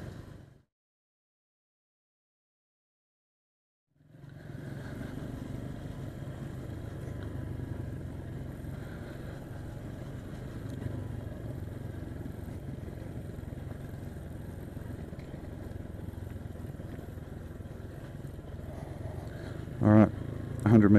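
A motorcycle rides along a rough trail on Tablas Island, its engine a steady mid-pitched drone heard up close after a few seconds of silence, with a couple of brief knocks near the end.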